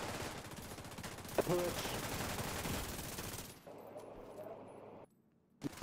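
Gunfire in a multiplayer shooter video game, dense and continuous through the first few seconds with a sharp burst near 1.4 s, then dropping away to quieter game ambience, with a player talking briefly over it.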